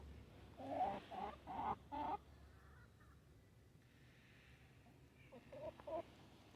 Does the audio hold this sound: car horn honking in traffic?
no